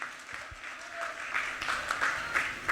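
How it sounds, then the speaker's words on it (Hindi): At a women's singing competition, an audience applauds a performer, starting softly and growing into a fuller round of clapping with scattered louder claps near the end. "जोरदार तालियां हो जाए इनके लिए"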